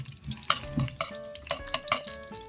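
Garlic sautéing in oil in a pan while cooking lomi, with a utensil stirring and scraping in regular metallic clanks about twice a second over a faint background.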